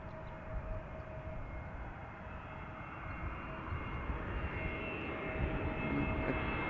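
An Airbus A330 jet airliner arriving at Amsterdam Schiphol Airport, a steady engine roar with a faint whine that slowly grows louder as it approaches from a distance.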